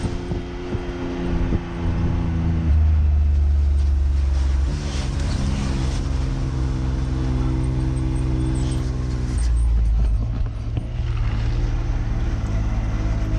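A UTV rolls along a dirt Forest Service trail on a long overland trip, its engine droning steadily with low rumbling shifts in pitch and wind buffeting the microphone, no voices.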